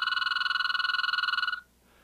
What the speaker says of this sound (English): The other one we heard in a number of places, which was kind of early, was the toad.